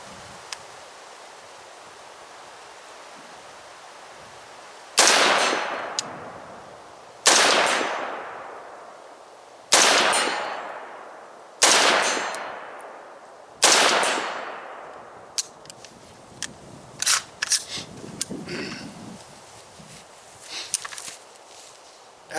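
Five loud AR rifle shots ring out one at a time at an outdoor range, each followed by a long decaying echo, aimed with iron sights at a steel target 100 away, with faint handling noises afterward.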